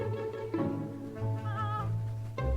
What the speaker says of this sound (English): So I've decided to rent a cat.